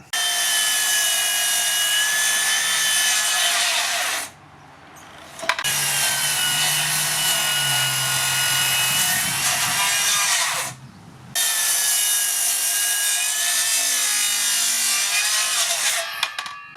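A Makita 40V 260 mm cordless circular saw makes a bevel cut through wood, giving a loud, steady, close whining drone that breaks off twice for brief pauses before resuming.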